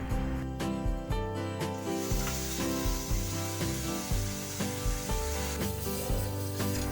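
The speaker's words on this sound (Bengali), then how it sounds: "মশলাটা ভালো করে কষিয়ে নিতে হবে" Spice paste with turmeric, chili powder and tomato paste frying in a pan for a mustard eggplant curry, a soft sizzle under loud rhythmic background music.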